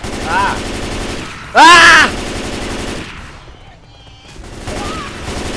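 Gunfire in the Left 4 Dead 2 mall level, dense rapid shots crackling steadily under players' excited shouting, with a sharp loud yell cutting through midway.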